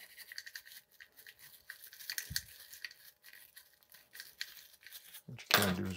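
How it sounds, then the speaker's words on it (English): A small brush scrubs the inner threads of a Race Face Next Cinch crank spindle, giving a steady run of short, dry bristle strokes with a louder burst near the end. "grab a smaller brush to sort of help you out with the threads to loosen things up in there"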